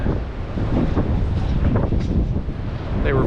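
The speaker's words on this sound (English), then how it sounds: "you'll get a good big burst of wind." Strong wind gusts during a December windstorm in Buffalo, a loud rushing buffet that swells and surges continuously against the microphone, with no talking.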